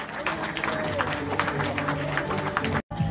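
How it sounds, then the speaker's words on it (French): A crowd at the Extreme sur Loue 2022 race award ceremony claps and cheers in steady applause, with a voice talking over it, before a brief cut near the end. "Vous applaudissez, s'il vous plaît, Estelle Morel"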